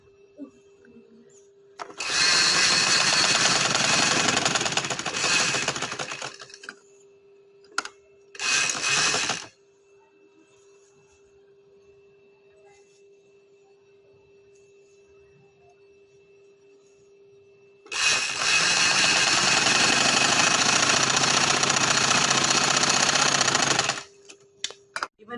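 An electric sewing machine stitches a winter frock in two long, loud, steady whirring runs with a brief burst between them, separated by near silence and a low steady hum.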